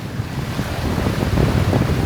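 Strong gusting wind of around 30 knots roars across a sailboat at sea off the coast of Colombia at night, with heavy waves surging and wind buffeting the microphone in a loud, continuous rumble.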